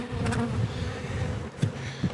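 Honey bees buzz steadily around an open hive during a swarm-control inspection, a continuous low drone with a few louder passes as single bees fly close.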